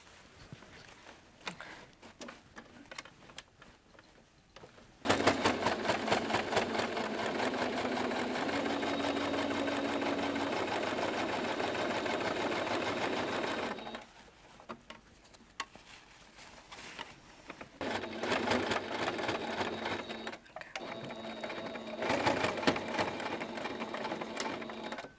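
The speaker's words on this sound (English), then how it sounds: "I'll just quickly sew 2 more lines just to press these seams down" A sewing machine runs in long bursts, sewing lines to press seams down on a bag, one steady stretch of about nine seconds followed by shorter runs separated by brief pauses and handling noises.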